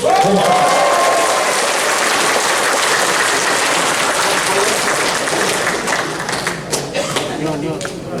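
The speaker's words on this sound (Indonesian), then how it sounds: "Tepuk tangan yang meriah sekali lagi untuk Bapak Kapolri." Loud audience applause fills a formal forum of South Papua regents with a parliamentary working committee, honouring the national police chief, dense clapping fading toward the end while a voice speaks over it.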